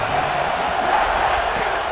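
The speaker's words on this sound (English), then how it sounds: "4th down, and this crowd is making it miserable on this offense." Steady, dense roar of a stadium crowd in the College Football 26 video game during a fourth-down play, a continuous wash of massed voices and noise with no breaks, loud and close throughout.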